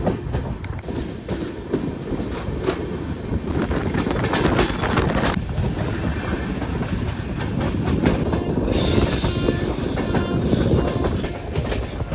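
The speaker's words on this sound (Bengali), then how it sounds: "আমাদের ট্রেন এখন ছেড়ে বেড়াচ্ছে আজিমগঞ্জ জংশন রেলওয়ে স্টেশনের এক নম্বর প্ল্যাটফর্ম থেকে" A Sealdah–Jangipur Road Express pulls out of platform one at Azimganj Junction with a loud, steady rumble and clatter of wheels on rails, joined by high squeals, with wind buffeting the microphone and no voices.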